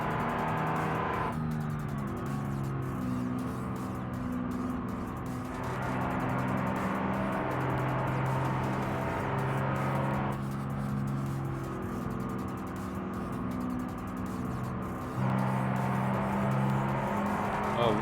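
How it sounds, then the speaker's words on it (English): Cars accelerating hard on a highway in a game, engine roar rising in steady, continuous bursts with gear-shift steps, loud and close, running throughout with faint background sounds. "hearing cars like mine just flooring it going down it"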